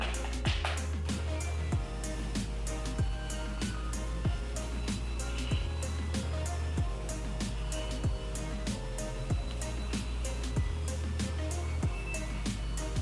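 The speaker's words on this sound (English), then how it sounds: "it is an entire song for that dryer to go off" A clothes dryer chimes out a full end-of-cycle melody, a rhythmic series of bright electronic beeps repeating over a low steady machine hum, clear and fairly close.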